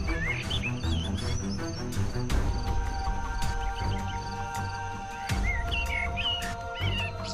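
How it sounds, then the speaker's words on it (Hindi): Chirping calls of a bird in a Hindi cartoon folk tale, bright tweets recurring in short bursts over a busy background of music and sound effects, with no voices. "पंछी वापस हरिया के पास उड़कर आया।"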